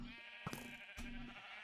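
Sheep bleating in the Minecraft video game, a short wavering bleat followed by a second one, close and clear over a faint background, with no talking.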